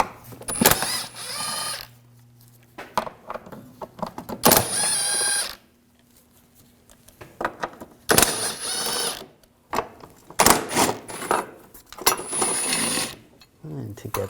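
A ratchet wrench with a 13mm socket removing transmission mount bolts on a 2007–2013 BMW 328i 3.0L L6, giving repeated bursts of close, sharp clicking between pauses and clanks of metal parts.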